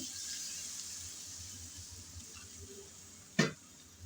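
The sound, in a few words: water being poured into pan with shrimp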